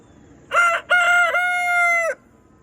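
A rooster in a backyard chicken coop crows once, loud and close: a short opening note, a brief break, then a long sustained cock-a-doodle-doo call.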